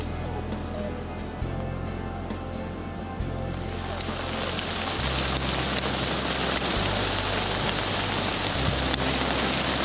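Rain mixed with hail pelts down outdoors during a fishing-trip cookout, a steady broadband hiss that swells louder and denser about halfway through, with a low engine-like hum underneath.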